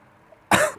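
A single sharp cough bursts out loud and close after a quiet moment, rough and brief, with no talking.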